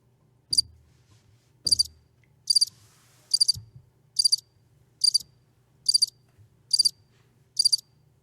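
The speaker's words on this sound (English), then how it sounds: "It was a cricket. It's a cricket." Cricket chirping in nine evenly spaced, bright trilled bursts about one second apart, close and clear over a faint low hum, with no voices.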